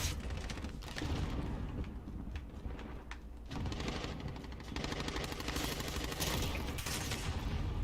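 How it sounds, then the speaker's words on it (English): Bursts of rapid fire from a light machine gun in a loot-based shooter, packed runs of shots broken by short pauses and repeated across several seconds at a moderate distance. "It's a burst fire."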